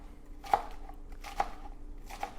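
A large kitchen knife cuts lettuce into thin longitudinal slices, giving three separate crisp chops spaced about a second apart, close and fairly quiet, with no voices.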